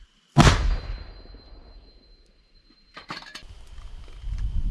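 A single loud, sharp blast of a heavy gun fires alone, booming and rolling off, followed later by a second burst of rumbling noise.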